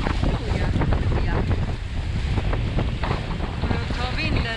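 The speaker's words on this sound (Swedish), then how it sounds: "Nu tar vinden fart här." Wind gusts strongly across a sailboat, the SV Taipan, as it sails into Ria de Muros, a steady loud rush with churning water beneath throughout, and no voices.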